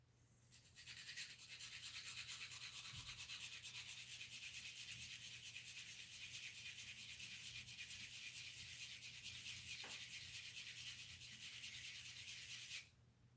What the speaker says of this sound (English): Take the 1500 grit to get rid of these little nubs.